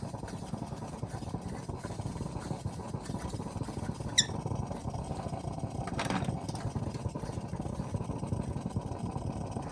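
A steady low roar and hiss of a 1972 US military pressurized lantern burner running continuously, with a couple of brief faint clicks partway through.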